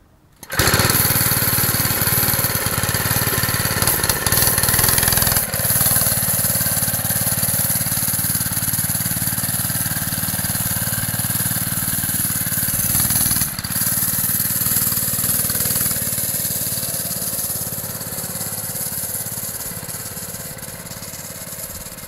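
A Honda go-kart engine starts and runs steadily, a loud buzzing small-engine drone held close for over twenty seconds with a slight change in pitch partway through.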